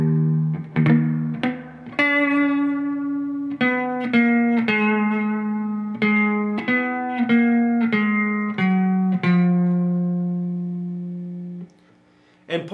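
Electric guitar playing part 1 of a song at slow speed, a sequence of distinct plucked notes and chords each ringing out, ending in a long fading sustain.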